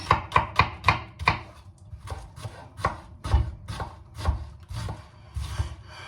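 Onions are finely chopped with a knife on a board for a sarma filling, giving quick rhythmic knocks at first, then slower, uneven cuts and soft scraping, close and clear.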